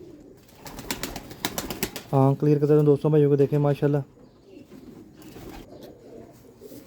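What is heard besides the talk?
pigeon cooing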